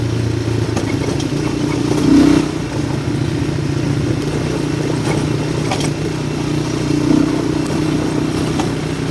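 A motorcycle on the move with the camera strapped to the bike, its engine a steady, close drone mixed with rattling and clatter from the mount, holding evenly for the whole stretch with no voices.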